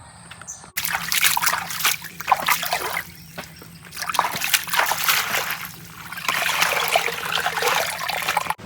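Freshwater snails washed under running water outdoors, a steady splashing trickle with sloshing and rinsing surges that rise and fall over several seconds, near and loud.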